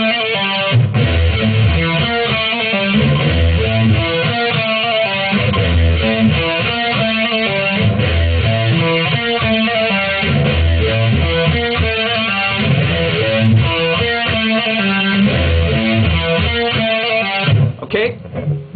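Electric guitar playing a song's interlude, a steady loud run of distorted picked notes with pull-offs that continues alone for about eighteen seconds.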